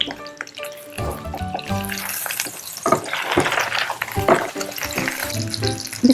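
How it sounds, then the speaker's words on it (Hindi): Chicken Francese sizzling in a pan over a low flame, a dense steady crackle with bursts of spitting and clatter, loud and close throughout. "अब इसकी साइड को फ्राई करेंगे अच्छे से, तकरीबन 10 से 12 मिनट के लिए।"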